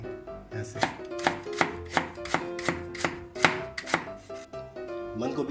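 A knife chops vegetables into cubes on a board in about a dozen evenly spaced, crisp, close thuds, with no talking.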